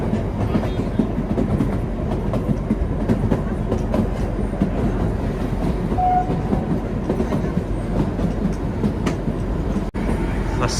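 The Shivalik Deluxe Express, train 52452 on the Shimla to Kalka line near Solan at night, rumbles along with steady clickety-clack from the carriage wheels and occasional faint squeals, a continuous loud ride heard from inside.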